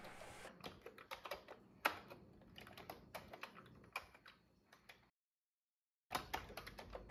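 Keys clatter on a Commodore 64 keyboard as a program is typed in, quiet and close in uneven bursts of taps, with a short pause near the end before typing resumes.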